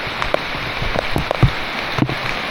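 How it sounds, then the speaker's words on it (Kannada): Rain falls steadily on a mountain trek, a constant close patter with scattered louder drops hitting nearby surfaces, and no voices. "ಬಟ್ ಮಳೆ ಬರ್ತಿದೆ"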